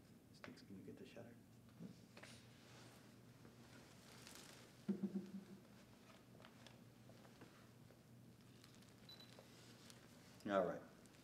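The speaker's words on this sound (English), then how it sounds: "All that's left to do now is click the shutter." A camera shutter clicks once near the end, sharp and close, during a product photography shoot in a quiet room, with a smaller click or handling sound earlier and faint background hum.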